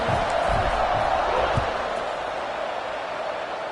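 Football stadium crowd roars steadily after a long touchdown drive and extra point, a dense wash of cheering and whoops filling the space throughout, loud and sustained with a slight easing toward the end.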